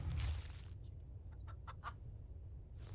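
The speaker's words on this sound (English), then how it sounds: "Chickens." Chickens cluck in the farming video game Farm Together 2: a few faint, brief clucks over a steady low hum, with no voices.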